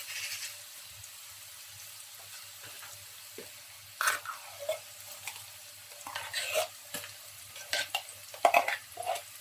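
Tomato paste (derica) frying in a pot for Nigerian jollof rice as a spoon stirs it, with a quiet background hum broken by irregular bursts of scraping and sizzling that grow busier toward the end.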